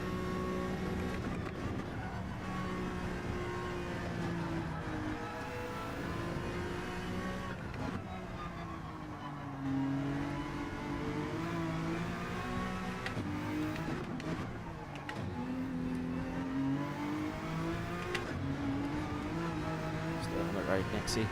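Gran Turismo 7 race cars in a GT3 daily race at Burg rev and shift continuously, engines rising and falling, with occasional tyre squeal. The cars sit at moderate level, and a voice speaks occasionally over them.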